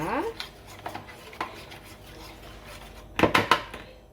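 A mustard and oil marinade is stirred in a bowl, giving sparse soft scrapes and clinks, then a brief cluster of louder clatters near the end, close and fairly quiet.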